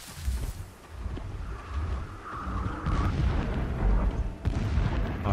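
Rumbling explosions boom repeatedly amid a dense, noisy battle din in the video game Horizon Zero Dawn, with deep low thuds and crackling bursts layered together.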